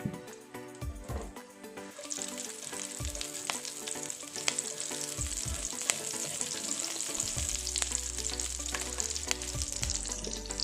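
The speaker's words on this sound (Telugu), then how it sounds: "ఆయిల్ వేడెక్కాక కట్ చేసుకున్న ఒక 3 పచ్చిమిరపకాయలను ఇలా వేసేసుకోవాలి" Three cut green chillies drop into hot oil in a pan while cooking a prawn masala curry. A loud, steady hiss and crackle spreads across the clip with occasional stirring clinks and scrapes, and no one talks.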